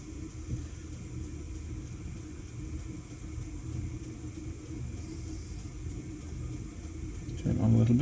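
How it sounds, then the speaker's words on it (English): A steady low rumble and hum from a running heater fills the background throughout, with a brief louder bump near the end; no voices. "Sorry about the noise in the background, that's my heater going."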